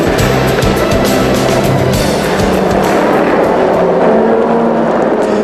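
Race cars of the American Le Mans Series rolling off the starting grid at Mosport for the 2006 Grand Prix, a dense, steady engine roar with broad rumble and hiss held at constant loudness throughout.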